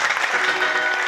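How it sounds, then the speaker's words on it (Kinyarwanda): A church congregation claps during a service: a brief, dense burst of steady applause with no pauses. "Komera Imana amashyi."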